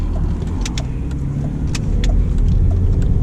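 A 2003 Range Rover diesel rolls through a tunnel with a dense, steady low rumble of engine and road noise that swells slightly toward the end, plus faint clicks and ticks from inside the cabin.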